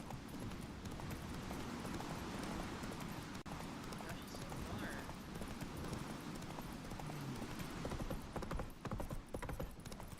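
Geralt's horse Roach gallops in The Witcher 3, a steady rapid drumming of hooves running loud and continuous under ambient game noise, with a brief vocal moment amid the ride.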